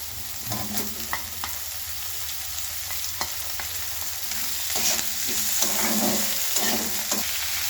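Chopped onion and potato fry in a pan, a continuous crackling sizzle with scattered light clicks and scrapes of stirring that grows slightly louder toward the end, close up and with no talking.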